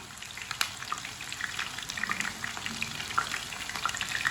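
Kebabs frying in a pan of oil over a lowered flame, a light crackling sizzle with scattered pops and spits, fairly close and steady with no talk.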